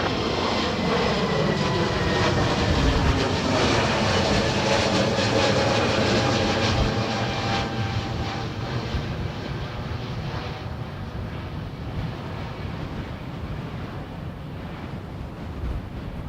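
A jet airliner roars low overhead at Dublin Airport, a loud, broad engine rush that holds steady and then slowly fades as it passes.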